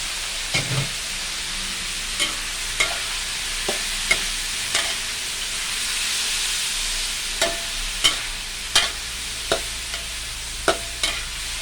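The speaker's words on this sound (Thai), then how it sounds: "ก็ใส่พริกลงไป พริกกับกระหล่ำมันจะสุกพร้อมๆกันนะเราก็ใส่ไปพร้อมๆกันเลย" Pork with sweet peppers and cabbage stir-fries in a pan, a steady loud sizzle running throughout, punctuated by regular clinks and scrapes of a spatula against the metal.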